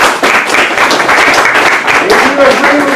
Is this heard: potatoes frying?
no